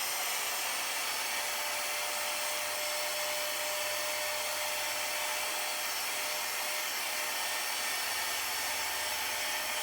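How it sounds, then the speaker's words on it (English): A cheap handheld vacuum cleaner runs continuously over laptop parts during a Dell Inspiron repair, a steady, close, high-pitched whirring hiss lasting throughout with no talk. "sucker hoover thing. Got this from Morrison's for like 20 quid."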